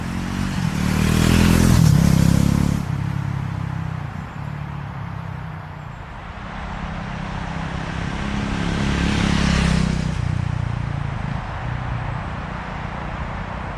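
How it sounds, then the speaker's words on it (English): A Triumph Scrambler 400X motorcycle passing by twice, each pass swelling from a distant engine note to a loud rush and then fading away. "And now a flyby"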